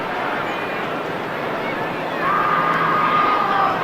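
Around 54,000 fans fill the stands at an Anzac Day Australian football match between Collingwood and Melbourne at VFL Park. Their cheering keeps up as a broad, continuous roar that swells louder partway through, with a commentator talking over it.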